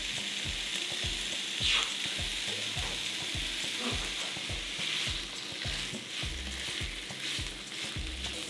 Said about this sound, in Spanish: ponemos a dorar las salchichas.